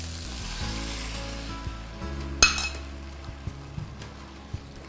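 Rice for mushroom pilau fries lightly in oil in a pan, a soft continuous sizzle with an occasional clink of a utensil against the pan.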